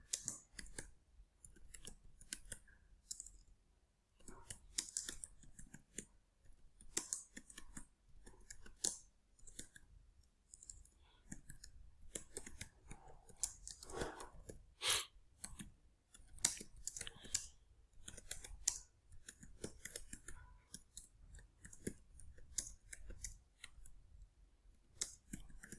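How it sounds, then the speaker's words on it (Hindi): Typing on a computer keyboard during a PowerPoint exercise: a long run of quiet, close, irregular key clicks that stream steadily with brief pauses and no voices. "चलो अब ध्यान देते हैं टाइपिंग में।"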